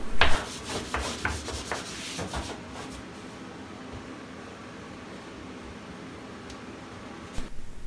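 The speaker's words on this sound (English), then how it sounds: "the sandpaper actually removes all that little debris off of my working surface" Sandpaper rubs over torn drywall paper in a few quick, close scratchy strokes at the start, then gives way to quiet room hum.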